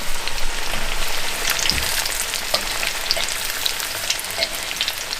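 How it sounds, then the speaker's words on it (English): Speckled trout fillets coated in panko crumbs fry in hot oil, a steady dense sizzle with crackling pops throughout, close and continuous with no talking. "If you've never tried frying with panko crumbs, you've got to give it a try."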